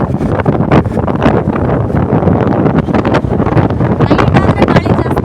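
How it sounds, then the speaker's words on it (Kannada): Strong wind blowing along a road at night in Ranebennur, buffeting the microphone in loud, gusty roars that rise and fall continuously, with no talking. "ಭರ್ಜರಿ ಗಾಳಿ."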